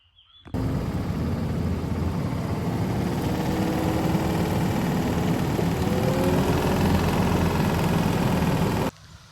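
Forestry mulcher engine kicks over after a brief quiet moment and settles into a steady, loud, low idle with a constant rumble and vibration, no voices present, then cuts off abruptly near the end.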